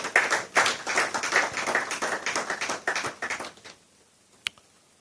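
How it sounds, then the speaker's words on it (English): Clapping from a business innovation series audience greeting the moderator, a few close, distinct hands beating in quick uneven rhythm for nearly four seconds, then stopping abruptly, with one sharp tap after a pause. "She deserves an applause."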